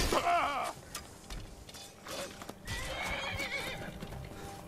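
A horse in The Elder Scrolls V: Skyrim lets out a loud, close, wavering whinny, followed by hoof clops and clattering game sounds that continue through the rest of the stretch.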